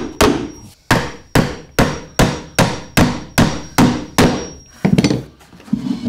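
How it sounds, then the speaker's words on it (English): A hammer drives nails into a wooden boring jig with about a dozen sharp, loud, evenly spaced blows up close, then a few quicker, softer taps. "And put a couple of nails in, hold that."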